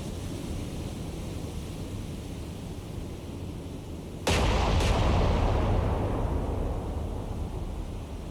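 Naval gunfire from the Ryujo in the War on the Sea naval video game, a sudden heavy boom with a second quick report, then a lingering rumble over steady sea and wind noise.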